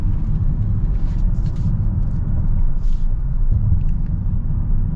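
A 2023 Honda Odyssey minivan's V6 with a 10-speed transmission pulls under acceleration, a steady, loud low rumble heard from inside the cabin throughout with no pauses.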